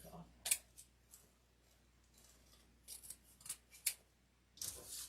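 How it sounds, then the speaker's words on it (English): Several sharp snips of scissors cutting pink deco mesh for a pastel snowman swag, quiet and close, spaced irregularly with soft rustling of the mesh between cuts. "Cut a little more of that pink off."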